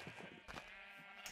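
Sheep bleating in Minecraft, a few short, faint bleats in quick succession, quiet and a little distant.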